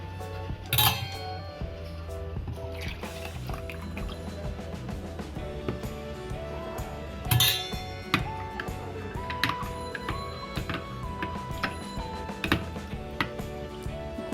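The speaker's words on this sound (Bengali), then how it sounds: "এখন আরও দুধ দিয়ে টক দইটা ভালোভাবে ওই দইয়ের সাথে মিশিয়ে নিব" A spoon clinks and scrapes in a bowl as sour yogurt and milk are stirred together for mango doi, with steady soft stirring and occasional louder taps against the rim.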